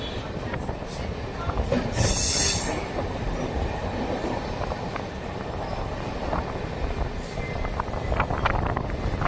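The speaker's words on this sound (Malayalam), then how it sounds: "ബംഗളൂരു ശേഷാദ്രി എക്സ്പ്രസ് ആണ് ദാ ബംഗാരപ്പെട്ട് ജംഗ്ഷൻ റെയിൽവേ സ്റ്റേഷനിലൂടെ ദാ കയറിക്കൊണ്ട് നിൽക്കുന്നത്" An express train rumbles steadily past at close range through Bangarapet Junction station, wheels clattering over rails with occasional squeals and a brief hiss, a voice talking faintly underneath.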